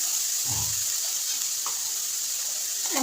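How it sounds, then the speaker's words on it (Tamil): Cinnamon, cloves and mace sautéing in a home kitchen pan give a steady, close sizzle, with a soft stirring scrape partway through and a faint clink near the end. "பட்டை கிராம்பு ஜாதி கத்திரி சேர்த்துக்கணும் எல்லாம் முன்னாடியே போடக்கூடாது நல்லா வதக்கி வச்சுக்கணும்"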